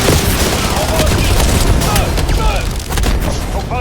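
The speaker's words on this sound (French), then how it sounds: "Mitrailleuse." Dense machine gun fire in the video game Black Ops 7 rattles close and loud in a rapid burst, mixed with booming impacts throughout.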